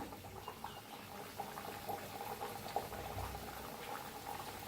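Pumpkin seeds fry in hot oil with a soft, continuous bubbling sizzle that stays low and close throughout, with no voices.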